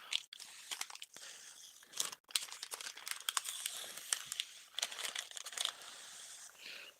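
Protective film being peeled off a clear enclosure panel for a Prusa Mini 3D printer gives a continuous close crinkling and crackling, with brief pauses and bursts over several seconds.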